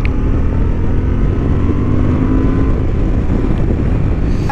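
Honda XL750 Transalp 2023 motorcycle accelerating on a racing track, a loud continuous engine drone with heavy wind rush buffeting the microphone, steady and close throughout.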